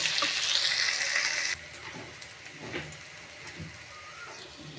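Pointed gourd (potol) frying in oil in a pan gives a loud, dense sizzle for about a second and a half, then drops to a quieter crackle with faint clinks. No one speaks.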